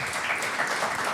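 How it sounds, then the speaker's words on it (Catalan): An audience applauds students and guests at a science talk, a short stretch of steady, moderately quiet crowd clapping with no voices over it. "Un fort aplaudiment a ells i a vosaltres"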